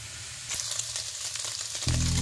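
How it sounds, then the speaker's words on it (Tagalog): Pork frying in oil in a wok for Bicol Express, a loud, steady, hissing sizzle close by with light stirring crackles, and a low hum comes in near the end. "tutuyuin natin siya dyan, pamamantikain natin siya ng kaunti para medyo siya pumula"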